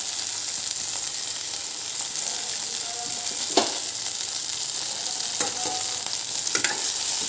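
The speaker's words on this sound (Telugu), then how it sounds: "ఇలా ఉండగా నేను 1 టీ స్పూన్ ఆవాలు జీలకర్ర వేసుకుంటాను" Mustard seeds and cumin frying in hot oil for a capsicum curry, a steady even sizzle throughout with a few faint crackles and light clicks over it.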